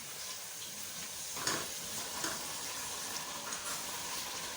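Onion, garlic and ginger frying in a pan for chicken masala gravy, a steady close sizzle with a few sharper crackles and scrapes as the pan is stirred.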